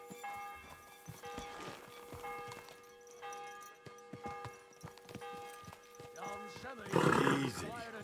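A horse being ridden in the video game Kingdom Come: Deliverance II, with clip-clop hoofbeats and a loud whinny near the end, heard under frequent talking and some background music.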